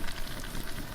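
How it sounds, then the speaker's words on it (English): A turkey sizzling inside a rock and stone oven outdoors for a bushcraft Thanksgiving dinner makes a dense, steady hiss and crackle, close and continuous, heard alone. "I can hear it sizzling"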